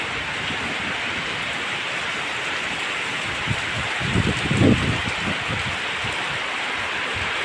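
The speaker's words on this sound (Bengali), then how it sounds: "প্রচণ্ড বৃষ্টি পড়ছে।" A steady downpour roars continuously, with a brief heavier patter swelling near the middle.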